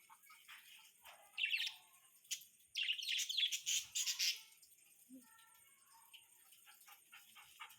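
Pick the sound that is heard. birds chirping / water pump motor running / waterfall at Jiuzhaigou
birds chirping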